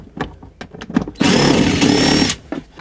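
A power tool whirs for about a second to back out a 10 millimeter bolt on the exhaust manifold area of a Chevrolet Express van, framed by quieter clicks and handling knocks before and after.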